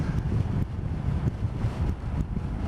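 Strong gusty wind in Stornoway buffeting the microphone, a loud, rough low rumble that surges and dips in uneven waves throughout, with no voices.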